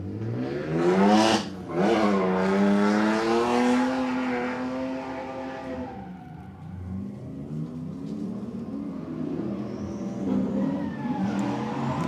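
Drift cars at a Mexican event rev hard in rising and falling engine sweeps, one loud close pass giving way to more distant revving and a faint higher whine as the cars trail off.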